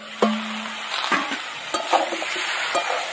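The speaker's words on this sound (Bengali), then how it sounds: "সব সবজি কিন্তু একদম ভালো করে ভাজা হয়ে গেছে।" Mixed vegetables for dudh shukto are stir-fried in a pan, with a soft frying hiss under repeated clattering spatula scrapes and knocks, close up and without speech.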